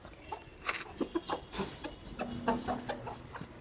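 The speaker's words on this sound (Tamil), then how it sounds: "கோழி" Chickens cluck in a series of short, close calls over a noisy background, with a few louder squawks in the middle.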